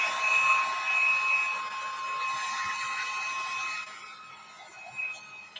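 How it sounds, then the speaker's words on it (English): A heat gun blows steadily while drying a watercolor card, its loud whooshing hiss carrying a faint tonal whine, then dropping off near the end. "So let's heat gun this baby, dry it off a little bit."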